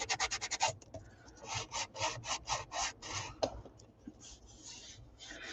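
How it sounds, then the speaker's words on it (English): An artist sands a small playing-card art card, making quick, rhythmic raspy scrapes in short bursts close up, with a brief pause before a second run of strokes. "Now this little bit of sanding may not really help."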